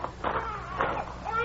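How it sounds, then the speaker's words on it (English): A baby cries as a radio drama sound effect: wavering, whimpering wails rising and falling in short bursts, fairly close and moderately loud, with no talk over it. "You could hear a baby crying"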